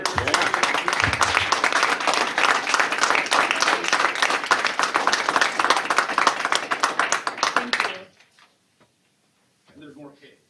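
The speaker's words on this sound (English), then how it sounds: "Round of applause." Dense, sustained applause from a city council meeting audience, loud and steady for several seconds before cutting off abruptly, leaving near silence with a faint murmur of voices.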